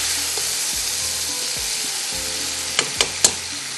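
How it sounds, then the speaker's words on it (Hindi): Onion and garam masala fry in a pot with a steady, bright sizzle throughout, and a few sharp clinks of a stirring utensil land near the end. "ये देखिए, थोड़ा सा इसको हम इस तरह से भूनेंगे।"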